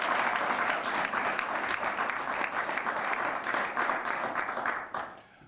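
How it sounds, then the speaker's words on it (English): An audience at an outdoor disability rights rally held by a mayor gives dense, steady applause for several seconds, then it trails off quickly at the end. "So I would like for y'all to give her a big round of applause for the work that she's put"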